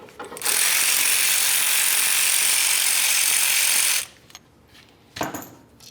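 Brake caliper bracket slider bolts being removed on a 1998-2003 Toyota Solara front brake with a ratchet, giving a steady close-up clicking run for about four seconds before stopping, then a brief metallic clatter.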